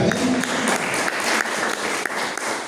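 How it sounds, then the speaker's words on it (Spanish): A church congregation claps together during a worship service, a dense, fairly loud burst of applause that fills the moment without any voice on top. "¿Cuántos le dan aplauso al Señor?"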